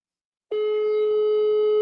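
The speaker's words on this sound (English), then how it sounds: "Can you hear it ringing? I'll phone her up right now." A phone call tone over WhatsApp starts abruptly after half a second of silence and holds as one steady, clean electronic tone to the end.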